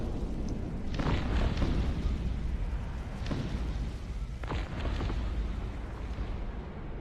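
A grenade explosion in the strategy game Cossacks: Art of War, heard as a dense, continuous rumbling roar of battle with a few louder bursts layered over it.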